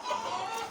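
Laying hens kept in a small backyard flock cluck in one short, steady burst, close and fairly loud with no other sounds.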